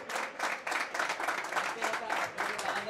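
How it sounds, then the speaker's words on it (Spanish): Audience applause after an exhibition soccer match at a Soccer World tournament in Gijón, a steady mid-level wash of many hands clapping in uneven bursts, with some voices mixed in. "un fuerte aplauso para todos vosotros."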